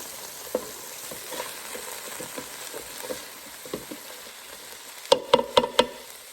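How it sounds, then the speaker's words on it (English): Garlic gently sizzles in a Ninja Speedi pot while a utensil stirs and scrapes it for beef stew, soft scattered scrapes building to a few louder clinks near the end. "And stir the garlic up."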